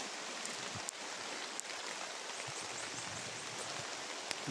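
Steady rain patters over a cucumber garden, a fine even hiss with occasional louder drops striking close by, no voices.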